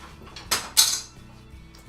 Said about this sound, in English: And then I'm just gonna stir everything together.